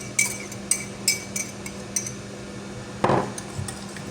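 Pancake batter made with kefir is mixed in a bowl, with a spoon clinking against the side in a regular rhythm, followed by a duller knock near the end.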